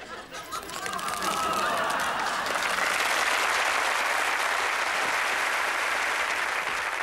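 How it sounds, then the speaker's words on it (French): Audience applause at a French Benny Hill comedy show swells after a brief start and holds steady as dense, loud, sustained clapping, with faint chatter and a few chuckles mixed in. "Vos applaudissements sont une nourriture pour moi."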